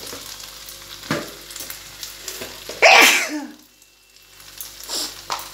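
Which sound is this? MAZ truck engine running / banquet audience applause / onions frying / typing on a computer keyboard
onions frying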